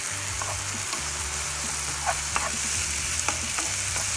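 Tomato and onions frying in olive oil for Mexican rice, with a dense, close, steady sizzle and light stirring clicks and scrapes of a utensil in the pan, and no talk.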